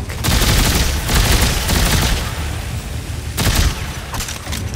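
Loud bursts of automatic gunfire and booming shots from the Dead Space 3 video game, coming in heavy repeated volleys with brief lulls between them.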